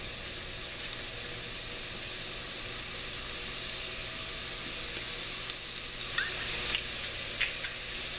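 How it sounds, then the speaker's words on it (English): Vegetables sauteing in olive oil for a bolognese sauce, a steady close sizzle and hiss from the pan with a few faint clinks near the end and no talk. "we'll just let those saute up"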